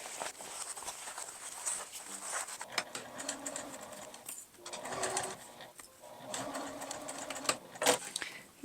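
A sewing machine stitches a fabric pouch with a 2.5 mm stitch length, a faint, quick rhythmic patter in several runs with short pauses between them.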